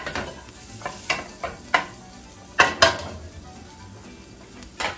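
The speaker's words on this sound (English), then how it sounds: "heat up the pancetta, all right?" Pancetta sizzles in a hot pan as a wooden spoon stirs it, giving a steady frying hiss broken by several sharp scraping strokes against the pan, close and fairly quiet, with no talk.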